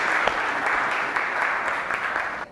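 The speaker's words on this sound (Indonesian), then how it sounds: "tepuk tangan dulu" A classroom group clapping together, a dense, steady burst of applause close by that stops abruptly at the end.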